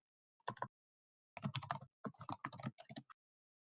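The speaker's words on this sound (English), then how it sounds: "I think some people are typing in the meeting chat." Bursts of keyboard typing from people in an online meeting chat, a short cluster of key clicks, a pause, then two longer rapid runs of keystrokes, fairly close and clear with no talk over them.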